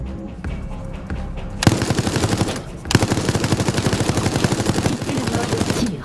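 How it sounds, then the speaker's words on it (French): Sustained automatic machine-gun fire in Resident Evil Resistance, loud and close: a quiet lead-in, then rapid rhythmic bursts with a brief break before firing resumes. "Utilisez la carte mitrailleuse pour éliminer le survivant."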